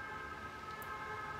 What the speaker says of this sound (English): so the ambulance just be rolling around everywhere